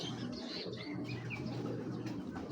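Breeding checker pigeons in a loft coo steadily in a low, overlapping murmur, with scattered higher chirps from other birds layered above; no voices are heard.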